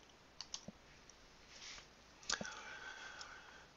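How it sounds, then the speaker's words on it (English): Faint computer mouse clicks at a desk: a quick cluster of three soft clicks, then a pause and a sharper double click, with a quiet room hush between. "When I'm done, I just click on the box."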